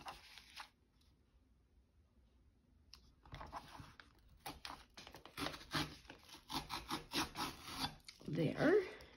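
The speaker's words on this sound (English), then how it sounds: "Let's trim this one down and see what that would look like." A paper journal card is trimmed with rubbing and scraping strokes close by, quiet at first and then building into a run of rhythmic cutting sounds.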